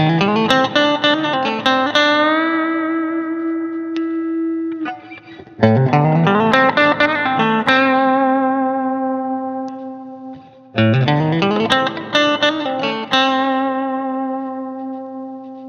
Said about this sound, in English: here's the difference in sound using single notes rather than chords